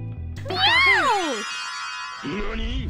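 A voice imitates a cat, letting out a single drawn-out, rising-then-falling meow, close and loud, after a brief bit of background music.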